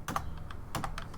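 Keys clacking on a computer keyboard while entering a list in an Excel spreadsheet, a few quick close keystrokes in two short bursts, with no talking.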